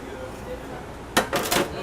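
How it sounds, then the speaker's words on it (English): Red velvet cookie trays slide into a back oven with a few quick metallic clanks and scrapes, close and fairly loud, after a quiet stretch. "so we're just going to shove these in the oven back here."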